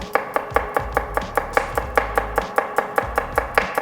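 A knife thinly slicing shallots on a board, about twenty crisp, evenly spaced chops in a quick steady rhythm, close and clear with no talk.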